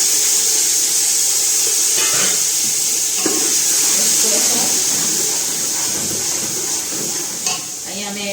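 Capsicum frying in a pan with cumin and asafoetida: a steady, loud hiss of sizzling oil with soft stirring scrapes throughout, a voice talking faintly over it.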